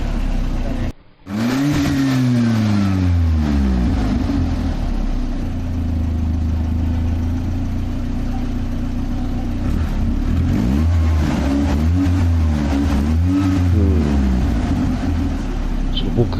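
A Nissan Gazelle S110 old car under restoration idles steadily, then its engine is revved in several rising and falling sweeps, loud and close throughout, with people talking over it.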